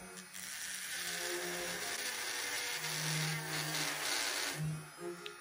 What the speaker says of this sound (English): Let's take this drill for a little spin and see how well it works.